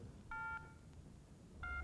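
Push-button telephone dialing in a Tamil drama scene: two short bursts of multi-tone keypad beeps, each about a quarter second, separated by a pause, moderately loud over a faint background hiss.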